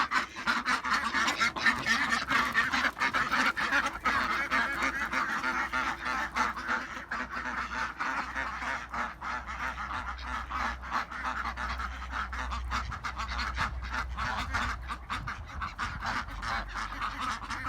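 Geese and their goslings honk and call steadily throughout, a dense overlapping flock clamour with quacking tones mixed in, close and continuous with no talk.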